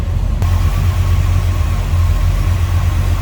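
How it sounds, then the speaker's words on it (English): A deep, throaty 327 V8 in a 1967 Chevrolet Impala SS idles steadily close by with the hood open, a low, even rumble with a faint lumpy pulse and no voices. "There's a little rumble coming out of that 327."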